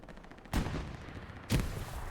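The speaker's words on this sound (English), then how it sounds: "There we go, grenade goes over, and..." Two sharp, booming blasts go off about a second apart in the Hell Let Loose war game, a grenade explosion followed by a second blast, each with a short rumbling tail over low background noise.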